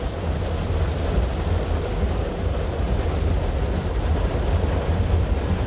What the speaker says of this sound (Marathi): आज चांगलंच पावसाने झोडपलंय